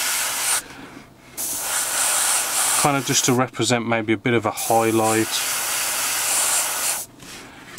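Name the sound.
airbrush spraying paint onto Tamiya Panzer III scale model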